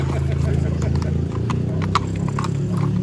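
Horse hooves clip-clopping during a religious festival procession honouring Saint Charalambos in Mantamados, Lesvos, steady and close under a loud, continuous crowd of voices and talk.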